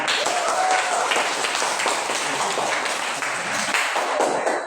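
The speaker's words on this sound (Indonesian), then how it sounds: "Baik, tepuk tangan." A classroom of students claps for a presenting group, a dense, continuous patter of many hands filling the whole stretch at close range, with voices mixed in beneath.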